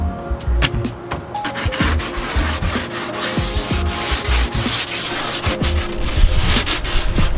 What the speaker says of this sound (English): We don't have to sand this thing all the way down to the fiberglass.